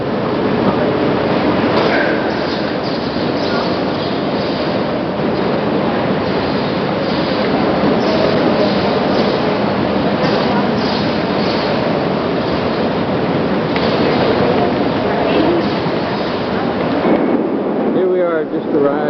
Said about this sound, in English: We took the high-speed train called the AVE.